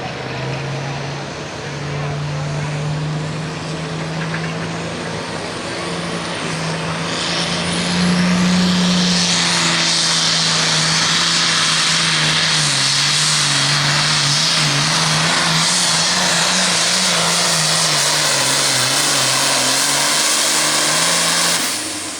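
Pulling tractor roaring down the track at a 9,300 lb Pro Pulling League event in Hillsboro, Wisconsin, a loud sustained engine drone that swells and stays intense, with an announcer talking over it.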